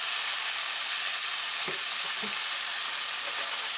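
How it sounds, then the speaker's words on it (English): A pan of tomato pizza sauce sizzles steadily and loudly as red cooking wine goes in, with a few soft stirring knocks under the continuous hiss. "I'm going to put in there about a tablespoon of red cooking wine."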